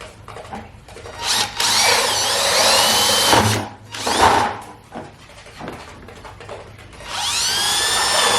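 Power drill boring a hole with a bit while building an automatic quail waterer, several loud whirring bursts of the motor spinning up and stopping, separated by short pauses.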